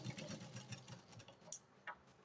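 A domestic sewing machine runs a straight stitch joining the back and front panels of a garment, a quiet rapid ticking needle rhythm at close range with a couple of sharper clicks near the end.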